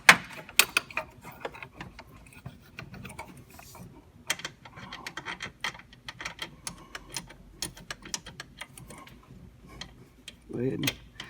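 A ratchet loosening a 13mm nut on a Silverado air conditioning condenser, with scattered faint clicks and metallic ticks at an uneven pace and a short rattle near the end.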